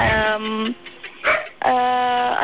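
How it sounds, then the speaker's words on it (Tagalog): Dogs bark and yip in a few short bursts, fairly close and loud, with whimpering notes in between, heard over a radio broadcast line. "May mga tahol na aso."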